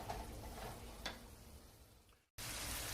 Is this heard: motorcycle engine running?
no